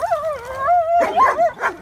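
A dog whines and howls in complaint on a morning walk, a close, wavering high-pitched cry rising and falling in a few drawn-out bursts, with no talk over it.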